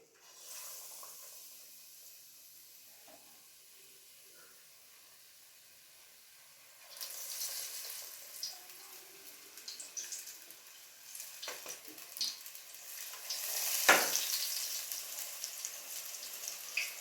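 Chili bajji sizzle and fry in hot oil, a steady crackling hiss that swells louder as more battered pieces drop in, close and alone without talk.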